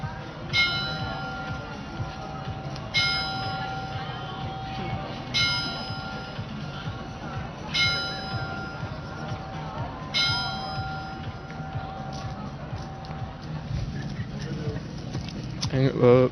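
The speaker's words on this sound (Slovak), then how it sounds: "Teraz nám tu bude zvoniť." A bell rings out in slow, regular strokes, one clear ringing tone roughly every two and a half seconds, each chime fading before the next, with soft background murmur and patter underneath.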